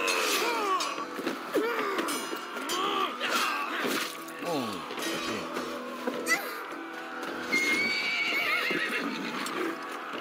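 A horse in Assassin's Creed Valhalla whinnies repeatedly amid galloping hoofbeats and clattering, with a busy, chaotic mix of other game sounds and some voice-like noise throughout.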